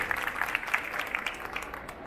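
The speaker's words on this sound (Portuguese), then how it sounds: "Palmas pro chefe, gente." Brief applause from an audience at a bakery trade fair for a pastry chef who has been talking about croissants: a steady patter of hands at moderate distance.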